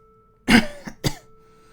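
A man coughs twice in quick succession, a sharp close cough followed by a second rougher one, against a faint steady hum.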